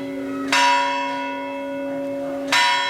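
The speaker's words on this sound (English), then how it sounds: "the bell struck 12." A church bell in a staged performance of A Christmas Carol strikes twice, about two seconds apart; each loud, ringing stroke decays slowly, with no talking over it.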